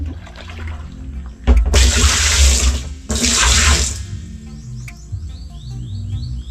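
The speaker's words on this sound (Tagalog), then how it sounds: "Lagyan natin ng tubig. Hugasan natin." Tap water gushes in two loud bursts to wash something at a house under construction, each rush lasting a couple of seconds, with quieter trickling and faint background chirps between them.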